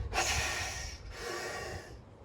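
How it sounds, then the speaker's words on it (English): A weightlifter pulls in sharp, forceful breaths through the nose and mouth before unracking a heavy bench press, two quick loud inhales close to the microphone, the second slightly softer. "It's important to take in a huge gasp of air right before you unrack that weight"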